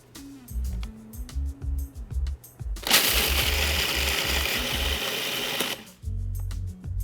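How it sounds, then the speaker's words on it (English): A food processor pulses dry oats and pistachios in short bursts, with one long loud whirring pulse in the middle between choppy stop-start runs. "gonna give these dry ingredients a quick pulse, just so that you can see that the oats become a bit finer and the pistachios are chopped up"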